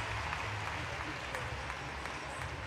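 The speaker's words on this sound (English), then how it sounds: "Big cheers from the crowd." Crowd at a 2017 women's artistic gymnastics meet in Jesolo cheers and applauds after an Italian team gymnast's routine ends with a double layout: a steady, dense roar of applause with a commentator talking over it.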